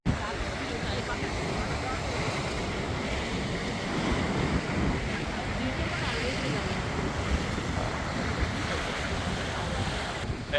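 Sea waves washing onto the shore near a resort with yachts, a steady broadband surf wash mixed with wind buffeting the microphone, continuous and fairly loud throughout.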